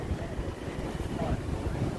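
Wind buffets a microphone outdoors in a low, rumbling, gusty roar that fills the short stretch, with faint voices buried beneath it.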